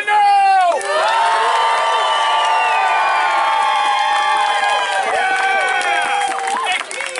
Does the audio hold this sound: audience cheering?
yes